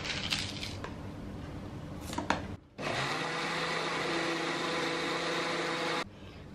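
A kitchen blender grinds green chili sauce with salt, starting with a few loud buzzy bursts and then running as a steady, loud whir for about three seconds before cutting off.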